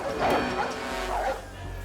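Two Rottweilers viciously attack a 16-year-old in a black sweatshirt, giving a brief, loud, close bark and snarl that rises and falls once.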